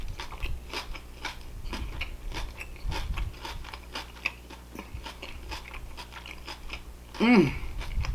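Close, wet chewing of BBQ chicken, a steady rhythmic series of soft bites and mouth clicks, with a brief murmur near the end.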